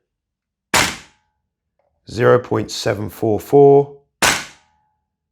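An airsoft gun running on an Airtac HYP-9 MWS HPA receiver fires single sharp cracks, one near the start and one near the end, with a voice speaking between them.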